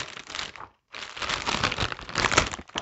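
Plastic packaging on a Warhammer 40,000 magazine issue being torn open, a close run of crinkling and ripping with a brief pause partway, fairly quiet and without talk.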